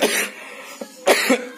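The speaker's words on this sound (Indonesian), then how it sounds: "masih lagi batuk" Two or three raspy coughs sound close by, separated by short pauses.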